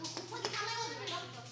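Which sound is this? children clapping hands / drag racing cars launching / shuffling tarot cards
children clapping hands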